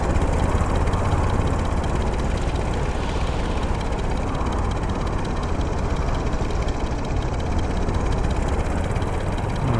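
Helicopter engine of an SH-29 compact naval helicopter in Stormworks, droning steadily with a loud, dense whine and rumble that rises and falls slightly as the throttle hunts up and down, with no talking.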